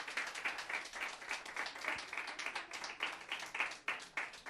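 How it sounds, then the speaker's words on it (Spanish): A church congregation claps steadily, a dense run of rhythmic handclaps that stays fairly constant in loudness throughout, with no speech over it. "Denle un aplauso al Señor."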